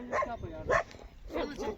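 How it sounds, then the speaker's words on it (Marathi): Dogs bark around a farm field in rural Maharashtra: a few sharp, loud barks close by, coming in separate bursts within about two seconds. "इकडं कुत्र्यांचा काही झमेला काही कळत नाही"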